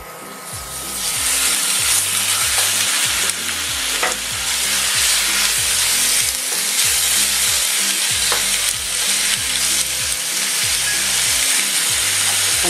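Sliced beef strips and onions brown in a hot pan, giving a loud, continuous sizzle close by, with regular rhythmic scraping strokes of stirring throughout and no voices.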